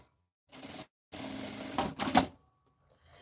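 Sewing machine stitching a zipper onto printed fabric for a small double pouch, running in two short bursts of rapid steady whirring with a brief pause between, then stopping to silence.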